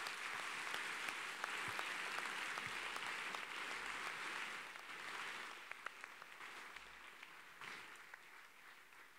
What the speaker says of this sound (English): Let's give them a big round of applause for helping make Total Chaos possible.